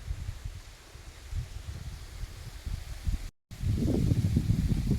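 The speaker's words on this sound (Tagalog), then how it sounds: "At ang lakas ng hangin." Strong wind on a hillside mango and coconut farm in Gumaca, Quezon, buffets the microphone with low rumbling gusts, briefly cutting out, then returning louder and more turbulent.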